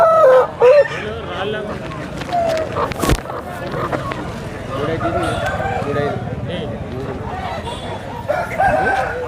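Country chickens at a Sunday village market in Vizianagaram district cluck and crow in a dense, busy flock, with repeated calls, a sharp crow near the start and continuous crowd chatter underneath.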